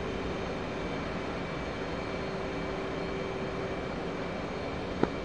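An F/A-18C Hornet's jet engine drones steadily in DCS World after coming off afterburner, a constant loud roar with a faint sustained whine and one brief click near the end.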